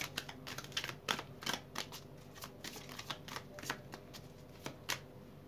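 Tarot cards being shuffled by hand in a rapid series of crisp riffling flicks and slaps, close and clear over a quiet room background.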